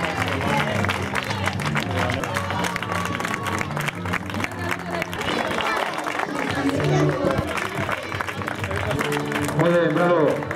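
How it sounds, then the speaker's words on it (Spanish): A crowd at a country running race claps and cheers amid loud background music and general hubbub, the applause sustained throughout. "Fuerte aplauso."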